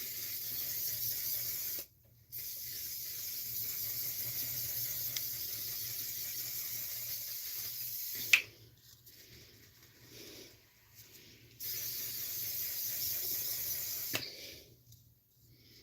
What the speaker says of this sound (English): going to use this to spray the face